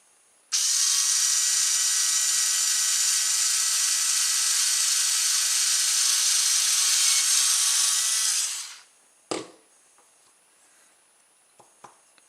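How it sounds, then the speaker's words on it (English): A steady, high-pitched drill whine runs continuously for about eight seconds, then stops, followed by a clunk and a few small taps. "So I'll drill a little hole in it."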